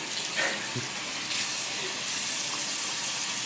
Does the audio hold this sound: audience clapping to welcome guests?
no